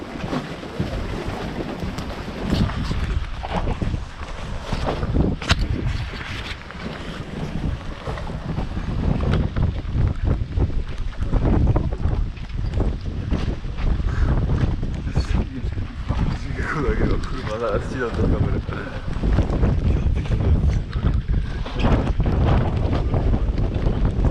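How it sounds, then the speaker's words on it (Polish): Strong gusty wind roars and buffets the microphone over sloshing lake waves in the Masurian lakes, with voices now and then beneath the noise. "Dosyć mocny wiatr się zerwał, jest fala."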